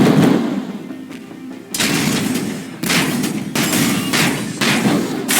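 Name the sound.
incoming gunfire in video game GUNHEAD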